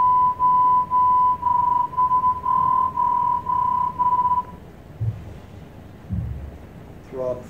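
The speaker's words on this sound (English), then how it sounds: "This is throb 2." Throb 2 digital radio mode tones generated by FLDIGI software: a steady train of pulsed tones that rise and fall smoothly in a regular rhythm for about four seconds, then fade into hiss and a low rumble.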